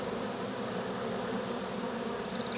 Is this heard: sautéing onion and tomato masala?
no